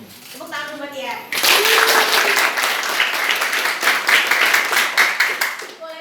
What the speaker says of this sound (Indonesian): Tepuk tangan buat Tian.